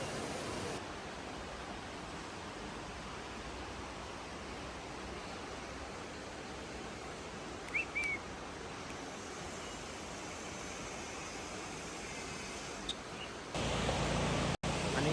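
A river flowing near an ashram outside Pune, a faint steady broadband rush of water heard from a distance with a few brief knocks, growing louder at the very end.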